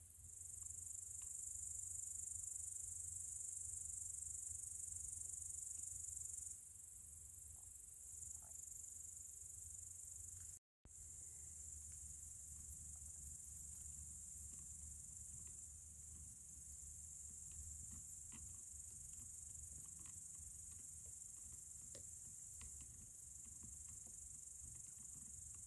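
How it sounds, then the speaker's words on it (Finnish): Grasshoppers chirp outdoors on a summer evening at camp, a steady high-pitched continuous trill that runs throughout with only a brief gap, over faint low background noise and no talking. "kuunnelkaapa muuten aivan mahtavaa heinäsirkkujen siritystä"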